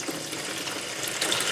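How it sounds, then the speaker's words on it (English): Water pouring into an aquaponics fish tank as it is filled with about 80 liters: a steady, broadband rushing and splashing, even and fairly close, with no voices. "I have now filled up the fish tank with 80 liters of water."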